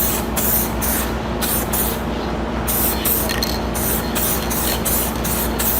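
Clear coat hisses from an aerosol spray paint can in a rapid series of short bursts, loud and close, each spray cutting off briefly before the next, with no talking.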